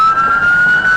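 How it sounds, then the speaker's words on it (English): A police car siren wails loud and close, one steady high tone held through the whole moment with no talk. "officers blare their lights and sirens"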